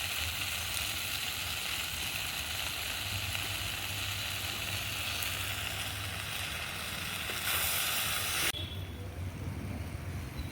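Okra and raw mango pieces frying in oil in a pan, a constant close sizzle with crackling spatter that swells briefly near the end and then drops away to a quieter hiss.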